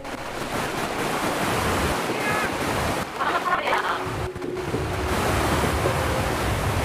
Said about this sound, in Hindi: दोस्तों, आपको जो नॉइस आ रहा है, जो वहाँ पे नदी बह रही है उसका आ रहा है